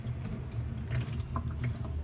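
Water from a pump runs into a small sink in a camper kitchen cabinet on a Ford F150 truck camper, a close, continuous gurgling splash with a low pump hum beneath it.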